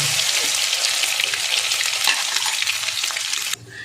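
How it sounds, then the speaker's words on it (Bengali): Grated boiled egg and potato frying with cumin seeds and chopped green chilli, a loud dense sizzle with spoon scraping through the pan, ending abruptly. "এবার আমি গ্রেট করে রাখা ডিম আলুটা দিয়ে দেব।"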